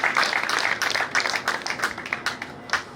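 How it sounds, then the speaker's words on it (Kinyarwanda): Applause from guests at a dowry giving ceremony, a steady patter of clapping hands with sharper individual claps standing out, moderately loud and continuous without talk. "Urakumva amashyi menshi cyane."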